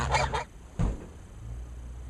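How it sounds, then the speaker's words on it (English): Loud nearby geese honking, a quick pair of harsh honks followed by a single sharper one, then a faint steady background hum. "you let the geese say their piece"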